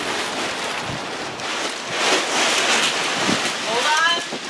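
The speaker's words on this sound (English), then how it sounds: "There's some wind, which is always very exciting because it's like occasional strong gust of wind." Strong gusts of wind sweep across an outdoor rooftop, roaring in loud, swelling waves with broadband rushing noise, and a voice briefly breaks through near the end.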